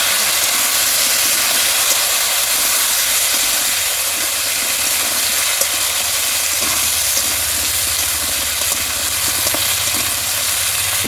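Potatoes and yam, dropped into hot oil with cumin and dried chili, set off a loud, steady, dense sizzle that hisses continuously without letting up.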